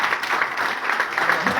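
Audience clapping at an IMC business training seminar, a short burst of dense, steady applause from a crowd indoors.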